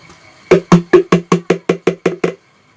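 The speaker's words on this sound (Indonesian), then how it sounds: "Dan bunyi ember juga sangat jelas." A bucket is tapped with a spoon, around ten dull, hollow knocks in a steady rhythm, each fading quickly, close and clear with no talking in a quiet enclosed room.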